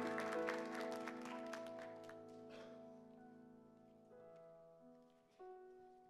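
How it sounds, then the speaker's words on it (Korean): A college and young adults church congregation applauds to welcome a pastor to the pulpit, loud clapping at first that thins and fades while sustained organ or keyboard chords ring beneath it. "크신 박수로 환영하도록 하겠습니다"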